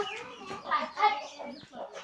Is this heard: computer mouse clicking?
no